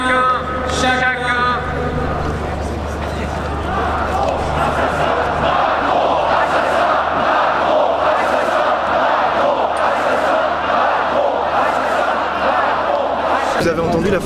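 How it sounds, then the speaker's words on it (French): At an Éric Zemmour political rally, a large crowd chants "Macron assassin" loudly and steadily, keeping up a dense, rhythmic roar of many voices for the whole stretch. "Vous avez entendu la foule scander Macron assassin?"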